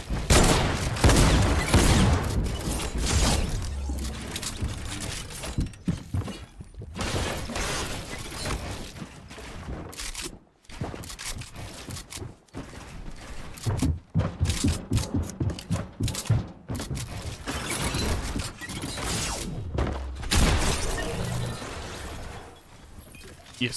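Fortnite game gunfire shoots out a built wall, delivering dense bursts of shots, booms and crashing breakage in long rapid volleys, loud and continuous, with brief gaps of silence between them.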